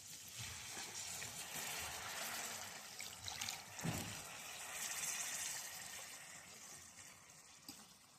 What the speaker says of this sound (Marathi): त्यात पाणी टाकते मी.